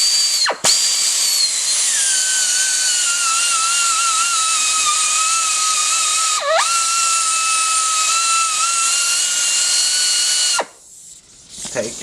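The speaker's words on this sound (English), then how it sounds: "Always run off your panel or your cup when buffing." A power buffer polishing an epoxied tumbler whines at a steady high pitch, dipping briefly midway as it loads, then stops abruptly near the end, loud and close with no talking.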